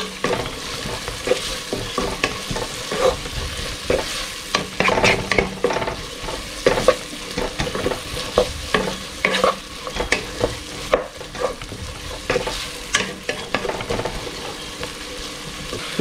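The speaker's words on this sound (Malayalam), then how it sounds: "പെട്ടെന്ന് ഉള്ളി ഒന്ന് നല്ലതായിട്ട് വഴണ്ട് വരട്ടെ." Chopped onion with salt sautéing in a pan for a Kerala-style beef kothu porotta, with steady sizzling and repeated scraping stir strokes throughout, close and fairly loud, no voices.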